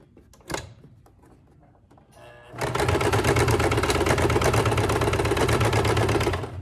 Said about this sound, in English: I'm just gonna sew right up against it, straight across there.